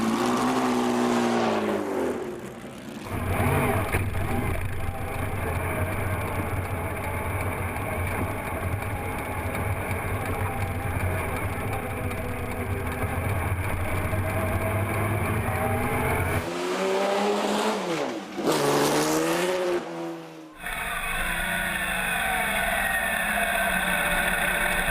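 A race car's engine roars hard down a straight, loud and sustained, its pitch climbing through several gears with short dips at each shift before pulling up again.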